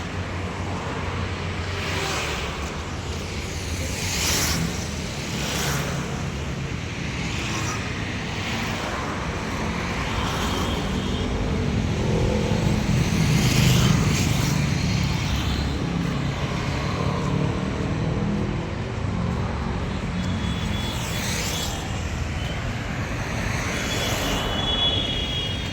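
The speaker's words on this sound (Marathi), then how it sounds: "वाकडचा हायवे आहे." Steady roadside traffic on the Wakad highway, a continuous broadband roar with passing vehicles swelling and fading, loudest around the middle, no voices.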